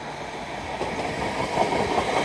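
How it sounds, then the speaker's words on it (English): An LNER York to London King's Cross service rolls into Newark Northgate station, a steady rumble of wheels on rail that swells slightly as the train draws nearer, with no voices. "we now have the 1133 LNER service from York to London King's Cross coming in."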